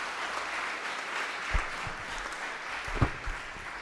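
An audience at a mathematics lecture applauds, a steady wash of clapping from many hands that carries on evenly for a few seconds, with no talking.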